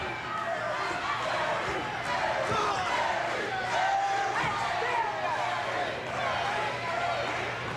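Crowd noise at a professional wrestling match, with teammates cheering a wrestler on, a steady roar and shouting throughout under a commentator's voice.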